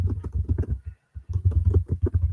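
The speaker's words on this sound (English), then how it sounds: "Sounds like you're typing something." Rapid typing on a computer keyboard clatters close to the mic in quick irregular bursts, with one brief pause before the keystrokes resume.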